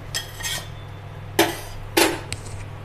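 A cooked carrot paratha being lifted out onto a plate, with a few sharp utensil clinks and scrapes against cookware in a quiet kitchen.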